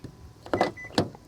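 A 2025 Hyundai Tucson Hybrid Limited unlocks through its door handle sensor, giving two quick mechanical clunks from the door lock actuators about half a second apart, close by and fairly quiet.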